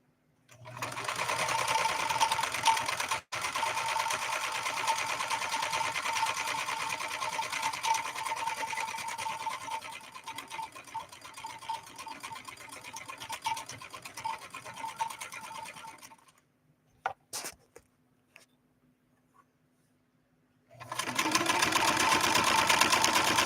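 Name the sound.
1970s Kenmore 158.13520 sewing machine stitching cotton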